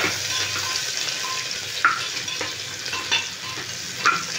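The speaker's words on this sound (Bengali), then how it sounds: "পেঁয়াজটা দিয়ে দিচ্ছি এবার তেলে।" Thickly cut onions fry in hot oil for Bengali aloo posto, a steady soft sizzle with a few sharp clinks and scrapes of stirring scattered through.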